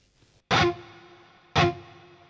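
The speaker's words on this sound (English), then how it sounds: "listen now only the reverb" Two guitar chords ring out through the reverb-only setting of a Jeff Loomis Devil's Triad pedal, each loud attack decaying into a long, lingering wash of reverb tail.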